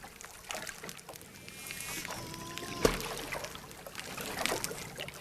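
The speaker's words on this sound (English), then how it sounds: "That pulse sound we think they use to scare fish." Wild dolphins in shallow seagrass-bed water making a pulse sound thought to scare fish, a sharp burst amid trickling water and faint whistles, recorded underwater and fairly quiet.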